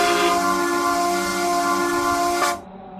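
A Japanese JR transit train horn in the Roblox game RO-Scale Sandbox blares loudly as one sustained, multi-tone chord that cuts off abruptly near the end, leaving quieter background hum.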